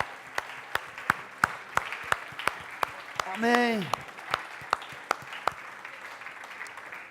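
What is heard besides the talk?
congregation applauding in church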